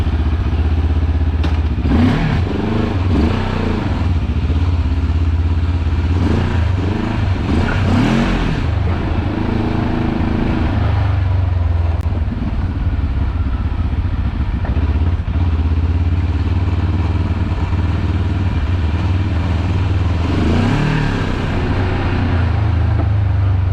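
A Benelli TRK700 motorcycle engine and exhaust run loud and close, idling with a steady throb and rising into several sharp revs, with some mechanical clatter between the bursts.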